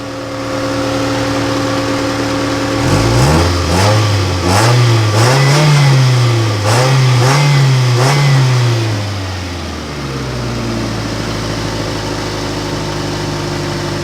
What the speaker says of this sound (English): Give you a little bit of a rev.